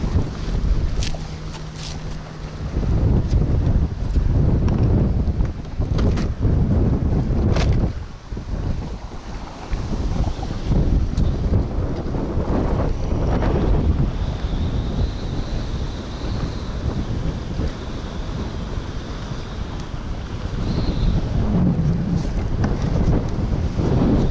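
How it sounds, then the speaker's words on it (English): Wind blowing hard over a fishing boat on the Florida Gulf Coast, roaring and buffeting the microphone continuously with water and wave wash beneath, loud and steady throughout with gusty surges. "That wind is starting to pick up again."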